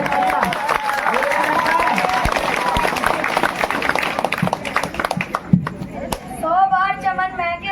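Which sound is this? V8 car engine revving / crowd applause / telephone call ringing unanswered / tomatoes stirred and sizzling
crowd applause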